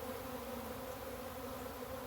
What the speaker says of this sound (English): but the bees are moving. The sun's out. They're able to fly for the first time today.